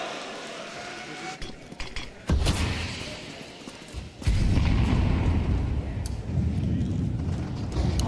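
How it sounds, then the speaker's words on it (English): Grenade blasts in a Counter-Strike 2 pro match between NAVI and Falcons, two heavy booms a couple of seconds apart followed by loud sustained rumble and in-game gunfire and movement noise under commentary. "second nade to break that open"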